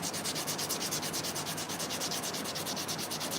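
Wood is sanded by hand in rapid, even back-and-forth strokes, a close, scratchy rasp with a steady rhythm of roughly three strokes per second throughout, with no talking.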